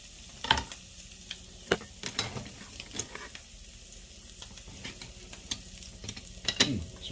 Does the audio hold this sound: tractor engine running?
no